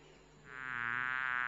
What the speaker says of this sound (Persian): مگس این طوریه دیگه